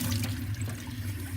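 Steady running tap water pours over a painted ceramic clay piece being rinsed under the faucet, a continuous close splashing wash with no talk.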